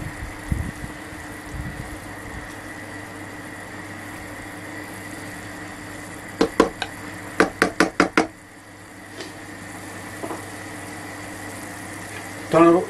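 A spoon knocks against a pot of food coming to a boil: a quick series of sharp clacks midway and a few scattered taps, over a low steady bubbling, hum, with talking near the start.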